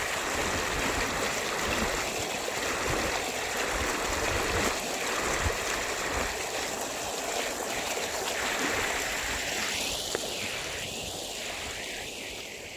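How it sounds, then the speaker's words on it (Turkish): A stream flowing near an old village water mill, a steady broadband rush of water that stays fairly loud and constant throughout, with faint scattered sounds over it. "güzel su akıyor."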